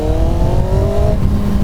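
A 1999 Kawasaki ZX-9R sport bike engine revving high, a loud, close, steady whine held briefly with a slight drop near the end, no voices.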